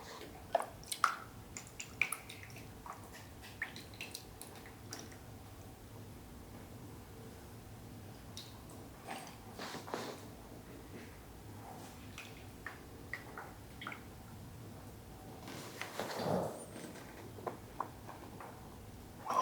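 Gel is rinsed off plant roots during repotting: quiet, scattered water drips, splashes and wet squishes, with a brief louder running gush near the end.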